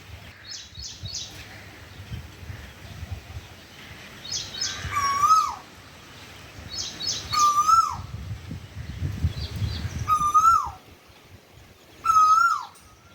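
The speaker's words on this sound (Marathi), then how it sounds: "कोकिळ मस्तपैकी बसलेला आहे आणि कू कू करतोय" A koel repeats its rising whistled call several times at regular intervals, clear and fairly near, amid quieter background chirps and faint rumbling.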